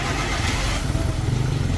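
A car engine running on homemade fuel idles steadily with a low, rumbling drone throughout, close by and fairly loud, no voices.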